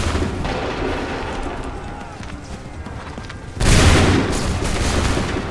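A musket and cannon volley in Assassin's Creed III Remastered: a continuous rumble of battlefield fire that swells into a loud, dense burst of booming gunfire partway through.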